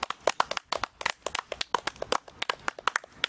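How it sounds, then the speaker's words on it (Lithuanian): A small group clapping for Gytis at a training session, quick irregular hand claps, fairly soft and close, with no talking over them. "Visi plojimai jum."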